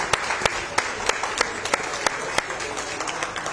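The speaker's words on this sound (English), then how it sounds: "Can we start off with a round of applause for Grand Strand Brewing Company?" A live podcast audience applauds at a brewing company venue, a close, continuous wash of clapping with distinct loud claps popping out in an uneven rhythm throughout.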